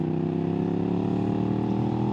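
Suzuki SV650 motorcycle engine running in fifth gear around 3,000 RPM, a loud, steady, close droning rumble with no talking.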